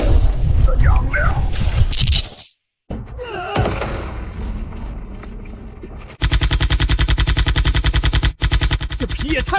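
Loud, rapid machine gun fire in an animated drama, with sustained bursts of rattling shots and heavy impacts, interrupted by a brief silence, then a dense, evenly pulsed volley that continues to the end, with voices in places.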